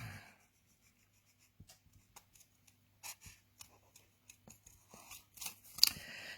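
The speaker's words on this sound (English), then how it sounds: "I start at a straight line if possible, and I move the paper, not my scissors." Scissors snip through pattern paper in short, separate cuts, close and quiet, spaced irregularly and growing busier toward the end.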